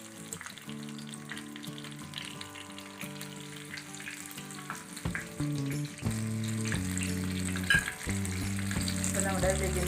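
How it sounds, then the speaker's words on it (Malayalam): Tomato baji frying until brown in hot oil, a soft continuous sizzle and bubbling close by, steady throughout, with faint clinks of a utensil and a low background hum. "രണ്ട് ഭാഗം ഒരു ബ്രൗൺ കളറാവുന്ന വരെ പൊരിച്ചെടുക്കുക കേട്ടോ."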